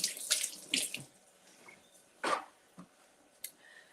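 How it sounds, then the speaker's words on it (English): Running tap water rinses a measuring cup at a kitchen sink, heard as a few short, quiet splashing bursts separated by near silence. "let me give this a little rinse"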